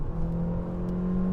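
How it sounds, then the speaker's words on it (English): An internal combustion car engine with a CVT accelerates, giving a steady, droning hum that holds one tone rather than shifting through gears, heard from inside the cabin with no talk. "all that engine noise? That is what a normal car sounds like."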